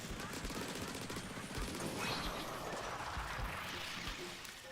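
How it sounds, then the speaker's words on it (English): Ink weapons in the video game Splatoon 3 fire at enemies with a continuous, wet, spraying rattle, a fairly quiet and steady stream of rapid shots. "We're gonna shoot all these guys."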